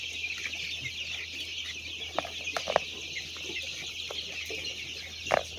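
Chickens cluck on a poultry farm on a hot day, with scattered soft clucks and calls over a steady background hum.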